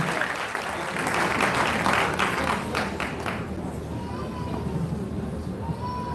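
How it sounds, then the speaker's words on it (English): An audience breaks into applause, a dense patter of many hands clapping that swells and then fades into a room murmur. "Can we clap for our own senator, FCT?"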